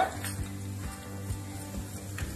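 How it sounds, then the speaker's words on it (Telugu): Mustard seeds and cumin crackle in hot oil for a Telugu brinjal and pea curry, a steady close sizzle with soft pops and a few faint clinks of a pan, no voices. "ఆవాలు, జీలకర్ర చిట్మట్ అన్న తర్వాత"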